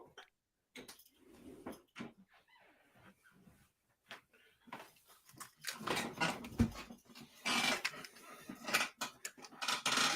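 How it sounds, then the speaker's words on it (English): A dog scratches at a door to be let in, giving scattered dry scrapes and taps at first, then denser, louder scuffing bursts with some rustling clatter toward the end; no talking. "Had to let the dog in. He's scratching on the door."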